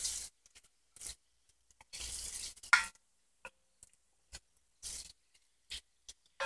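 Turmeric and spices sizzling in hot oil in a curry pot for spicy tomato rice, heard as short intermittent bursts of frying hiss and scraping as they are gently stirred, with quiet gaps between.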